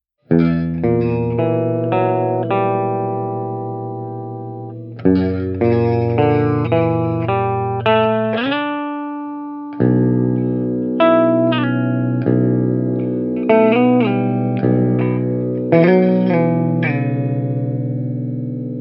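Electric guitar chords ring through a driven Softube JMP 2203 amp plugin tone, struck one after another and left to sustain and decay, loud and close, with no voices.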